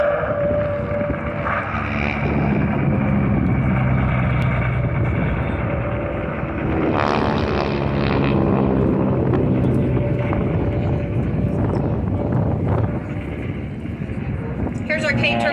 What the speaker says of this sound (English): Here's our K-torpedo bomber right here in front, climbing up.